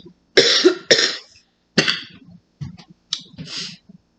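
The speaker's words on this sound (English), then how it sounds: "Excuse me for coughing." A person coughs repeatedly in several harsh, close bursts, two quick ones followed by a few shorter coughs with brief pauses between them, alone without talk.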